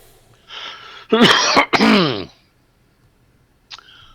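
A couple of harsh, raspy coughs up close, followed by a short breathy throat noise after a pause.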